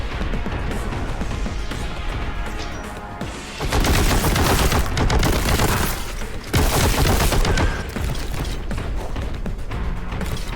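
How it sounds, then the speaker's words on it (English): Heavy gunfire in the Warhammer 40K Boltgun video game: a weapon spins up and fires in loud, sustained bursts that surge and swell, with dense rattling blasts filling the stretch and no talk over it. "It's kind of like a spin-up on a minigun or a chain gun of some sort."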